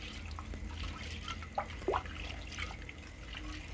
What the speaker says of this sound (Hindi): इसको हम अच्छे से धोएंगे ताकि जो इसमें केमिकल हैं वो निकल जाए और दाल साफ़ हो जाए।